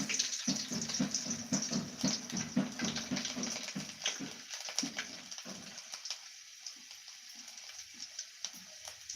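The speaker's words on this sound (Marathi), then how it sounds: "लसूण जो ठेचून घेतला होता तो फोडण्याची टाकते" Crushed garlic dropped into hot oil for a tempering, giving a loud, steady sizzling crackle that later thins out into scattered pops and spits.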